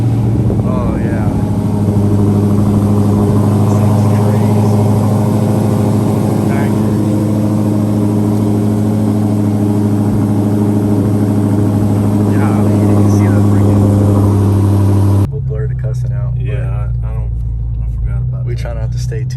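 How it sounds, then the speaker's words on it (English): A Dodge Demon's engine idles close and loud with a steady deep rumble and a faint injector-pump tick running through it, then cuts to a quieter muffled tone near the end; talk is faintly heard over it. "you hear that injector pump tick tick tick tick tick tick"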